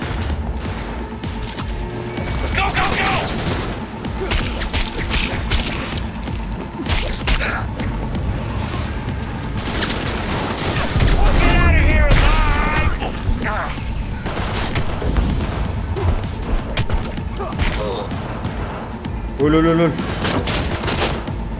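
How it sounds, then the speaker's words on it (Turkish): Gunfire from a gun in Cyberpunk 2077: dense, loud volleys of shots and mechanical clatter run almost continuously, with someone talking over them. "Oğlum bu silah bir değişik sıkıyor lan."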